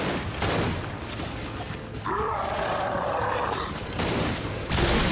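Gunfire aimed at a flying enemy in Gears 5, loud sustained bursts of shooting mixed with a roaring creature and heavy combat noise throughout.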